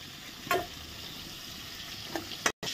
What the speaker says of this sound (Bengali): হলুদ দিয়ে এখন মাছটা ভেজে নিচ্ছি।